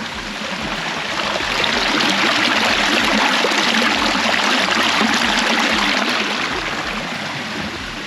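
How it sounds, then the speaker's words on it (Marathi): Water flows steadily along an irrigation channel near areca palm groves, a loud, continuous rushing that rises slightly and then eases off, with no voices. "पाटाचं पाणी सोडलेलं मस्त पाटाने झालेलं."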